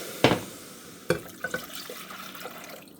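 Juice poured into a cooking pot while making Jello, a few splashy liquid pours and drips in quick succession, close and fairly quiet, with no talking.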